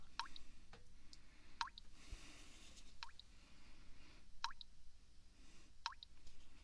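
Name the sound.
water drops dripping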